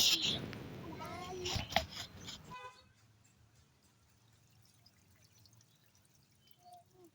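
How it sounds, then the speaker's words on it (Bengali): Water splashes and sloshes as pineapple is swirled by hand to wash it, with a voice speaking over it, then the sound falls away to near quiet. "এইভাবে ধুয়ে নিয়ে আবার একবার পানি আমরা পাল্টে দেবো এইভাবে নড়াতে থাকবো"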